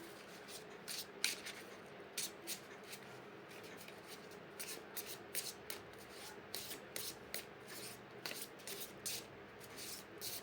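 Angel oracle cards are shuffled at close range during a tarot-style reading, giving soft, quiet rustling bursts in an irregular rhythm.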